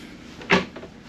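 A drawer in a cruise ship cabin slides with one short wooden scrape and knock, close and fairly loud, followed by a faint second rattle in a quiet room.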